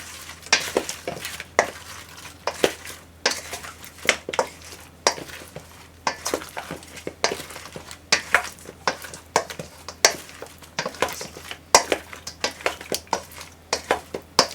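Freshly fried tilapia pieces tossed in a mayo-style sauce, with repeated wet scraping strokes and clinks of a utensil against the pan in an irregular rhythm, close up.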